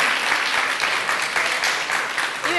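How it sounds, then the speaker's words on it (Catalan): Audience applause for spelling contest participants, a dense, steady burst of clapping from a crowd that carries on evenly to the end. "Un fort aplaudiment també per tots tres."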